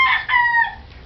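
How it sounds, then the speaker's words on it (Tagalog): A rooster crows loudly and close by among a flock of farm chickens, one full cock-a-doodle-doo call with a short break and a trailing end, with no talking. "Lahat ng manok, sir, na narito,"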